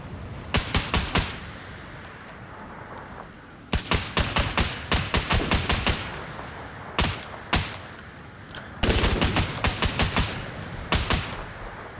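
Gunfire in the video game Operator: Tier 1 at night comes as loud, sharp automatic bursts and clustered shots, with rapid volleys broken by brief pauses, close and dominant.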